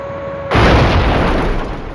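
A single loud grenade blast bursts out suddenly after a quiet moment and rolls into a long, dense rumble of debris and echo, heard alone in a wartime combat setting.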